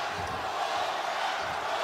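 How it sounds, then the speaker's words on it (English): A crowd in a boxing arena at the Navarrete vs. Oscar Valdez championship fight makes a loud, steady, broadband roar that fills the short stretch, with no clear talk over it. "Crowd starting to chant here"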